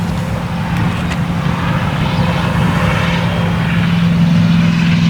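A radio-controlled model airplane on landing approach, its engine droning steadily and fairly loud throughout with a constant tone, at an RC flying field.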